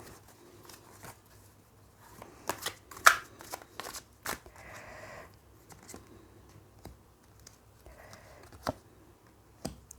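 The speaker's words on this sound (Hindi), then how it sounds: "मैं सारे कार्ड्स ले रही हूँ" A deck of tarot cards handled and shuffled up close, with soft riffles and sharp snaps of cards against each other in irregular bursts over a quiet background.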